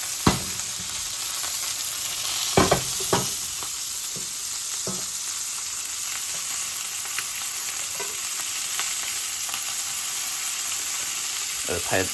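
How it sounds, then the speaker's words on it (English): A thick pork tenderloin sears in a hot pan with a steady, loud sizzle and crackle throughout, broken by a few sharp clanks and knocks from the pan. "it makes sense that it's taking longer for it to kind of heat up and sear the meat and get it to release"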